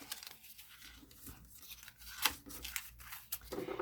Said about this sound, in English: I'm going to trim on both of the long sides up to the score line.